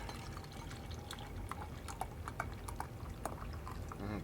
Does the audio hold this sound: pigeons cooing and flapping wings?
no